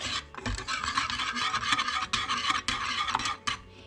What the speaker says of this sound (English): And we're gonna start stirring.